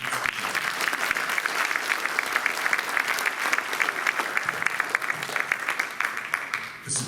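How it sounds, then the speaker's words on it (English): Sustained, dense audience applause fills a school board ceremony recognising Ward High School students, steady and even from start to finish before a brief dip at the end. "One more big round of applause as well."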